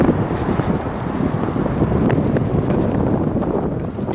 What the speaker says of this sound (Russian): И ветер сильный еще.